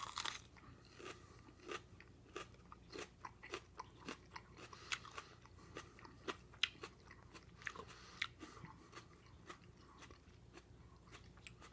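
Carolina Reaper pepper pods being bitten and chewed up close, a steady run of soft crunches and wet crackling chews repeating for around ten seconds, fairly quiet, with no talking.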